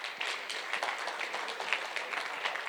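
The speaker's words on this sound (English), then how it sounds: "I would like to a big round of applause for MR to take the stage" Fairly quiet applause from a conference audience as a speaker takes the stage, individual claps audible in an uneven patter, somewhat distant.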